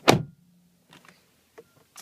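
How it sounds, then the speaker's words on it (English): A single heavy, solid car door slam up close on a 2010 Mercedes GLK, followed by a few faint clicks and small mechanical sounds. "just listen to this door close."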